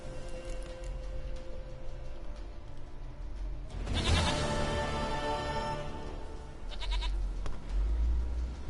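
A goat in The Witcher 3 bleats loudly in one drawn-out cry midway, with another shorter bleat after it, over a soft game ambience.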